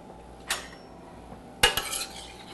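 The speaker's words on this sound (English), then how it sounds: "I'm going to give it a quick stir." A metal spoon clinks against a pot while giving a quick stir to a sauce with bay leaves in a home kitchen: two short, bright clanks, the second followed by a brief rattle, close and otherwise quiet.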